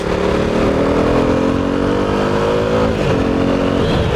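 A KTM Duke 390 motorcycle (old BS3 version) carrying rider and pillion accelerates hard, a loud steady engine drone climbing in pitch, dipping briefly at a shift, then rising again, heard from on board.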